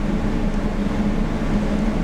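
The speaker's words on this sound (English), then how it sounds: "It definitely doesn't sound like it wants to stop revving though" A turbocharged V12 in a Toyota Cressida holds high revs on a dyno, a steady, loud, droning engine note that stays constant throughout.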